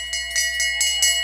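A bell rings out to mark the last lap of a short track race at the Desert Classic, with a few fast, bright repeated strikes that blur into a sustained metallic ring over a steady low hum.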